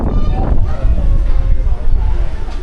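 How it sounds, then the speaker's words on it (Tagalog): Strong outdoor wind at Monte Maria gusts against the microphone, a heavy low rumbling buffet that stays loud and continuous, with faint voices underneath. "Lakas din ng hangin."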